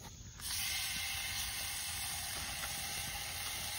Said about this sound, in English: Alright, so I'm putting the bacon right now.